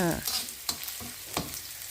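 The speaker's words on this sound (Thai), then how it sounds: "ในกระทะนะคะพอดี กำลังผัด หอมหัวใหญ่แล้วก็หอมแดงค่ะ" Diced onion and shallots stir-fried in a pan with a little oil for a Thai chili paste with pork cracklings: a steady close sizzle, broken by a few sharp scrapes of the spatula against the pan.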